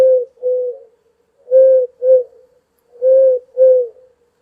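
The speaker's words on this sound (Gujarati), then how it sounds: "કબૂતર કેવું બોલે?" A pigeon coos close and clear in three paired phrases, each pair a soft, low, rounded call followed by a second, with short silent gaps between pairs.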